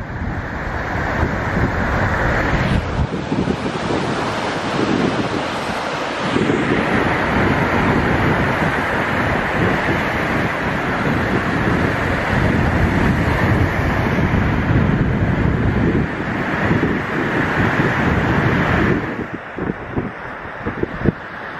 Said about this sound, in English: Check out those waves coming over that wall.